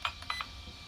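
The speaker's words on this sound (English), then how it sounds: "it'll begin to flash and sound a little beep just like that" Hobbywing brushless ESC for RC cars, emitting a few short electronic beeps in quick succession during endpoint setup, faint and close, with low background hum between them.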